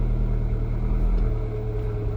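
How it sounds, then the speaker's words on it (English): An idling Abarth 595C cabriolet gives a steady low engine rumble as the handbrake is released and reverse is selected, heard close from inside the car with no distinct clicks. "Then down with the handbrake and into reverse."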